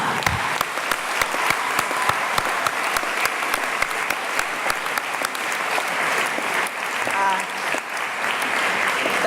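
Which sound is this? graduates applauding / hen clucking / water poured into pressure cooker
graduates applauding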